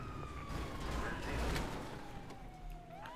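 An ambulance siren in the GTA 5 video game wails in a slow falling tone at moderate distance, mixed with game background noise.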